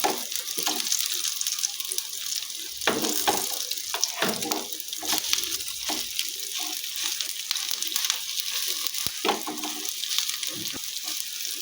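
Bread slices dipped in egg fry in a pan, giving a steady, close sizzle with scattered clinks and scrapes of a utensil throughout.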